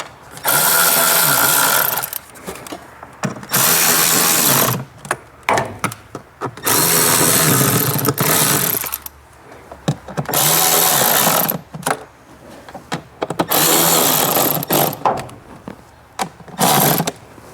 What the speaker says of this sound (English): Now we're gonna reinstall the little screws that we removed. These are 8mm screws.